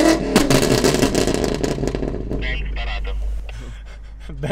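A BMW M5 Competition engine revs hard, with loud close crackling bursts and an exhaust bang early on, then settles into a rumbling idle with sparse pops as voices talk nearby.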